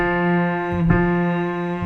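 Four held keyboard notes play in a smooth, sustained line, each tone ringing out into the next with rich harmonics and a slight bump where one changes, clear and close with no voice.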